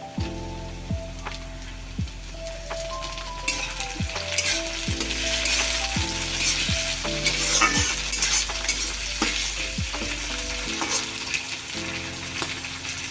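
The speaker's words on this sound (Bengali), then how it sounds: "পেঁয়াজটা একটু ফ্রাই করব ততক্ষণ ওয়েট করব" Onions fry in a pan with a loud, continuous close sizzle, broken by regular taps and scrapes of a spoon stirring against the metal.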